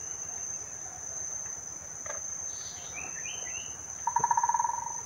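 A woodpecker calls near a coconut tree, giving a brief rapid rattling series of notes near the end, heard over a steady chorus of crickets and insects.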